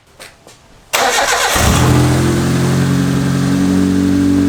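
A car fitted with a newly built, partly finished exhaust cranks briefly and fires up, then settles into a loud, steady, rumbling idle that fills the rest of the moment, with no talking over it.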